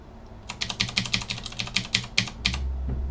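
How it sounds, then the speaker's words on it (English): Rapid clicking of computer keyboard keys, a burst of about a dozen crisp taps at an irregular typing rhythm, close and clear with no talking. "Click P on the keyboard."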